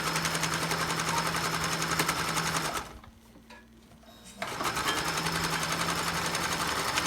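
Sewing machine stitching across a piece of felt: a loud, fast, steady mechanical chatter that stops briefly for about two seconds, then resumes at the same pace.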